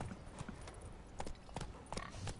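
Horse hooves galloping across ground in The Witcher 3 video game, a quick uneven clip-clop of hoofbeats, fairly close and moderately loud, with faint game ambience under it.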